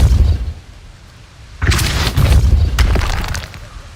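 Depulso spell impact in the video game Hogwarts Legacy: after a quiet lull, a sudden heavy boom hits, followed by a few further crackling bursts and rumbling debris.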